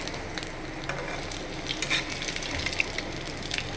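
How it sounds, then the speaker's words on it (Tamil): Fish frying crisp in a pan, a continuous close crackling sizzle with scattered sharp pops and faint stirring, fairly quiet and without voices. "மீன் நம்மளுக்கு வந்து நல்லா ஃப்ரை ஆகி ரெடி ஆகிடுச்சு"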